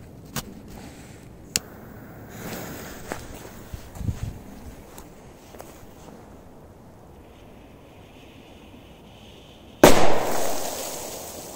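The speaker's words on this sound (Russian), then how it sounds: "на очереди у нас П-150" A P-150 firecracker goes off in snow with one sharp, loud outdoor bang near the end, after a stretch of quiet wind and faint handling noise.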